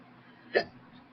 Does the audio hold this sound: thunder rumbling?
no